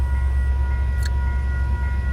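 A broken-down train sits in Pine Bluff, Arkansas, giving off a steady low rumble of idling locomotive machinery close by, with a brief faint squeal partway through.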